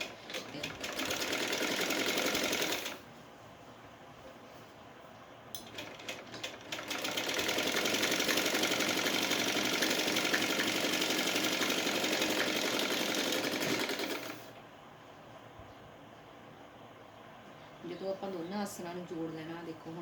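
A sewing machine stitches a seam on a simple salwar in close, loud whirring bursts, one short run and then a longer run, with pauses between and someone talking faintly in the gaps.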